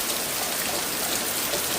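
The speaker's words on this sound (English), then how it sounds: "This is the kind of rain I'm talking about." Hard rain pours down at night on a garden, a dense, steady hiss of drops drumming without pause, fairly loud and close, with no voices.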